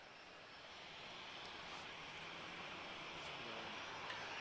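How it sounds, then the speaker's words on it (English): An Airbus A330neo airliner departs Lisbon Airport, its engine roar a steady, distant broadband rumble that swells slightly and holds on alone. "next to depart we have a A330 Neo"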